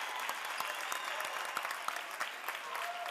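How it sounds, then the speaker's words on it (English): Sustained applause rolls through a basketball crowd during a Strasburg quarterfinal, many hands clapping in an even, busy texture with a few sharper claps poking through and faint voices underneath. "I've got to give him some applause, too."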